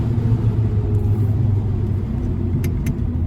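A 1970 El Camino's engine rumbles steadily and loudly from inside the cabin as the car slows down, a low continuous drone with no talking.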